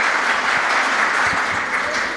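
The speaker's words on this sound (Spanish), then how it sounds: "Un aplauso para el Padre." An audience gives Father Luis Toro steady, sustained applause, many hands clapping evenly at close range for the full couple of seconds.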